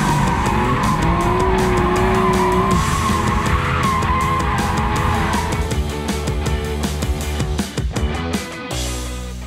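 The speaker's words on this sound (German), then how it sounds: "Kann ich das Ganze so steuern, dass es immer schön im Driften bleibt und die Musik spielt" A BMW drifting in donuts, with tires squealing loudly and a revving engine holding a long rising and falling screech that gives way to rougher engine and tire noise, set against music.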